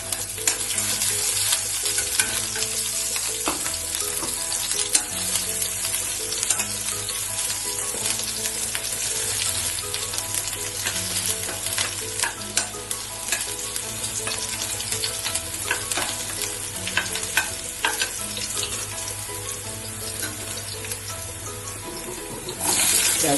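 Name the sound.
cumin, black pepper, cloves, ginger, green chili, garlic frying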